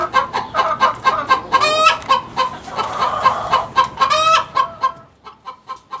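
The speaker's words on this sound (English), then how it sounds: "After laying an egg, a hen will cluck loudly." A hen clucks loudly and repeatedly, close up, in a rapid series of sharp, rising squawking calls that ends in a few shorter, quieter clucks.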